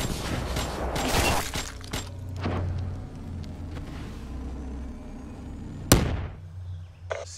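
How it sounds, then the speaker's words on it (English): A grenade bursts in the Black Ops 3 video game, preceded by a crackling clatter of gunfire and debris, then one sharp, loud blast near the end followed by a brief faint tail. "Grenade!"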